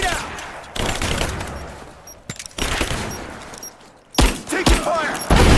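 Heavy gunfire in the action game Rise of the Tomb Raider, loud bursts of automatic shots and booms broken by short lulls, with voices calling out amid the shooting.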